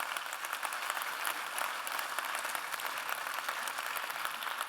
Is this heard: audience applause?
yes